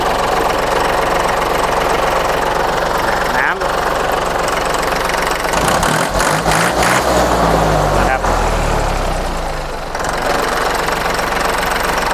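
A three-cylinder Iseki NT540 tractor diesel runs steadily close by, a loud, continuous knocking idle with rattling vibration throughout, while someone talks over it.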